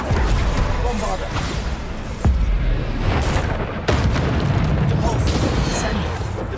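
Bombarda spell explosions in the Hogwarts Legacy video game burst as loud, heavy booms amid a dense, continuous roar of combat noise, with sharp blasts standing out every second or two.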